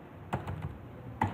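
A short command typed on a computer keyboard at the Command Prompt, just a few quiet, close keystrokes spread over about a second and a half.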